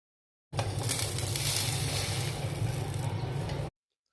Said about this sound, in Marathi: तीन मिरच्या आहेत त्या पण भाजू.